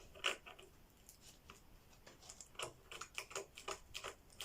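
Scissors snip through a diamond painting canvas in a rapid series of small, crisp cuts, faint and close, with no talking.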